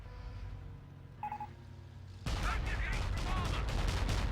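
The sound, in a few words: Ostwind tank gunfire in Blitzkrieg mod video game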